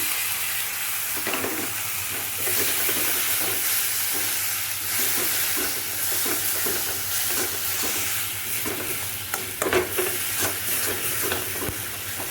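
Tomato going into a pan of spices, including chilli powder and salt, setting off a loud, dense, continuous sizzle with scraping stir noises throughout.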